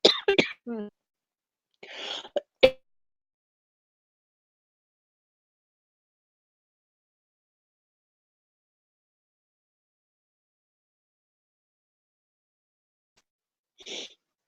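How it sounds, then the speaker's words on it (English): A few short, harsh coughs close by at the start, then a long silence and one more brief cough near the end. "Didn't mean to get into a coughing fit there."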